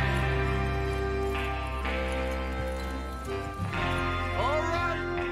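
Horse hooves clatter in a rhythmic gallop amid a busy Red Dead Redemption 2 soundscape, with a horse whinnying briefly and voices speaking over the mix.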